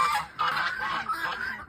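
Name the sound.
geese honking in a barnyard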